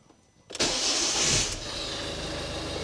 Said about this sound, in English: I'm just going to sit in here, start it up, let it tick over